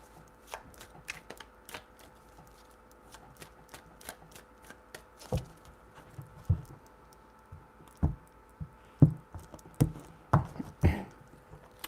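A deck of tarot cards is shuffled by hand, giving a sparse run of crisp riffling snaps and soft taps that grow denser and louder toward the end, close by with no talking.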